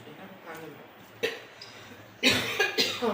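A couple of sharp coughs break in near the end, preceded by quieter murmuring and a softer throat sound earlier.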